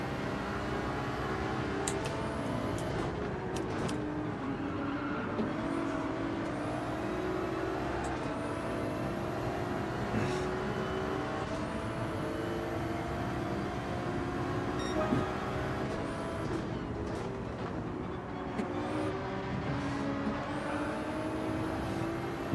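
A Ferrari race car in Gran Turismo 7 drives with a steady, whining engine note that rises and falls through gear changes, faint and continuous with no voices.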